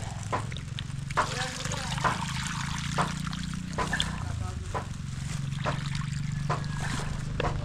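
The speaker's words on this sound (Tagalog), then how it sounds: "Daming tubig." Flowing water trickling and splashing steadily outdoors, continuous and close, with people talking over it and occasional sharp knocks.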